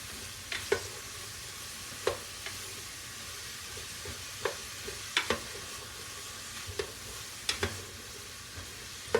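Onions sizzle softly in olive oil in a pan while a utensil stirs them, scraping and clacking in irregular bursts over a quiet, continuous fry.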